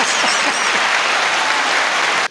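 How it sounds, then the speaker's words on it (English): Audience applause on a morning talk show, a steady, close burst of many hands clapping that holds evenly for about two seconds before cutting off abruptly. "Let's have another round of applause for Rick."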